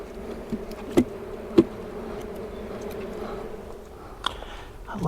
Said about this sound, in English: A lot of angry bees today.